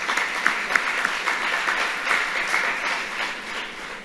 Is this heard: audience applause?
yes